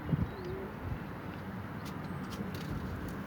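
Soft pigeon cooing sits low under a steady wash of outdoor background noise, with no talking.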